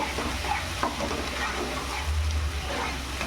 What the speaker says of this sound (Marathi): टोमॅटोची पेस्ट पण आपण व्यवस्थित अशी शिजवून घेऊ.